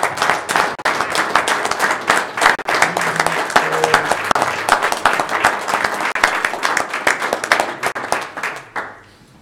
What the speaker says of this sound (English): if you'd join me in giving a round of applause to Commissioner Ebert